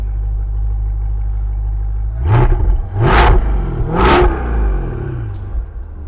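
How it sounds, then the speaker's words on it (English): A 2022 Chevrolet Corvette C8 Convertible idles with a low rumble, then revs sharply three times through its dual-valve quad-tip exhaust in track mode, each blip a loud rising roar that drops back. "There, you heard the dual valve exhaust there, or quad tip"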